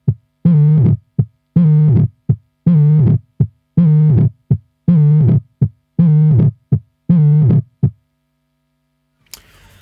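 A Suhr Discovery Analogue Delay pedal pushed into degrading repeats throbs out a steady, heartbeat-like rhythm of loud paired thumps for about eight seconds. It then falls silent before a brief burst of noise.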